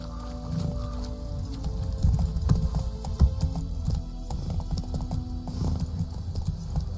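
Hooves of a horse in The Witcher 3 video game clip-clop at a steady gallop, loud and close, with light jingling tack over a low rumble and no talking.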